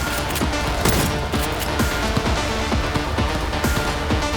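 Rapid, dense gunfire in Cyberpunk 2077, a continuous fusillade of sharp close shots and impacts crowding one another at a steady loud level throughout, with no talk over it.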